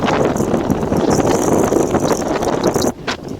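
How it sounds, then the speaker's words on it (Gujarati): Steady, loud, cold wind rushing past in rainy, stormy weather, broadband and blustery throughout, dropping off briefly near the end. "મજા ઠંડો ઠંડો પવન એટલો આવે"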